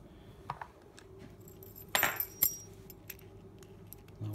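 Keys work a CISA 5-pin oval door lock, giving faint scattered metallic clicks and jingles, with a brighter clinking burst midway, close up and with no talk.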